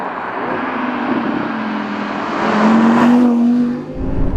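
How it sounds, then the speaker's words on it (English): A loud, sustained engine roar with a rising whine from a naturally aspirated V10 Audi R8 RWD Performance Edition supercar passing close, steady and powerful throughout. "glorious naturally aspirated V10 supercar engines"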